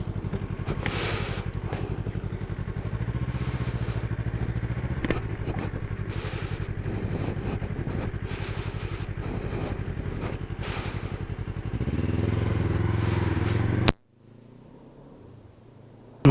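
A Yamaha MT03 motorcycle is ridden with a steady engine drone and wind rumble that rise and fall with the throttle. The engine note climbs loudly near the end and then cuts off abruptly to near quiet.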